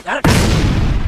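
A cartoon firecracker lit by a fox with a piece of wood goes off as a single loud, close boom that follows a brief voice and then rumbles on for about a second.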